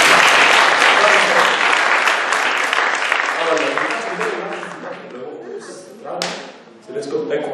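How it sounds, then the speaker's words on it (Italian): An audience at an astronomy talk in Genoa about the journey to Jupiter gives a loud burst of applause that slowly thins and fades, followed by a few scattered claps and faint voices near the end. "Applauso a Stefano."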